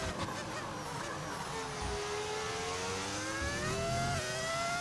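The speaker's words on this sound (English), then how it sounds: "Why does my car sound like a V10? Because it is a V10." A Formula 1 car's V10 engine in the F1 25 racing game, on the Brazilian Grand Prix circuit, screams at high revs with rising and falling pitch, sustained and fairly loud.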